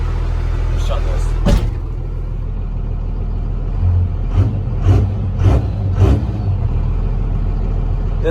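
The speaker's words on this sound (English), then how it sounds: "It has so much torque, it's shaking that truck when you do it." A stock second-generation race pickup truck's engine revs in a few sharp bursts, loud and close over steady low idle rumble, with people talking nearby at a truck meet.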